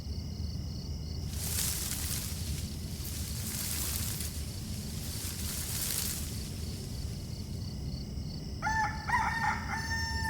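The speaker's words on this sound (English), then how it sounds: "The rooster already crowed." Rooster crowing in the distance, a few faint drawn-out calls over steady background hiss, followed by a short burst of bright chirping near the end.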